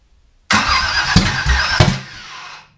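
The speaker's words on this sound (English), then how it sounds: "why is it backfiring like that?" A big block 396/402 V8, started for the first time in six years, catches abruptly and roars loudly, two sharp backfire bangs punching through the rough run before it settles and fades; no talking.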